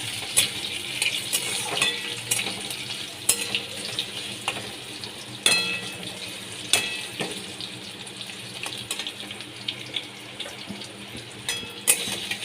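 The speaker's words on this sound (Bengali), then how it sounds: "তেলের মধ্যে আলুগুলো দিয়ে দিচ্ছি আমি ভেজে নিলাম" Potatoes frying in hot oil make a close, crackling sizzle with frequent sharp clinks and scrapes of a utensil against the pan, and no voices.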